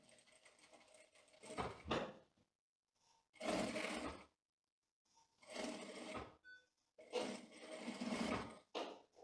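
A sewing machine stitches women's tailored trouser fabric in four bursts of steady, busy whirring, each lasting about a second or so, separated by short quiet pauses.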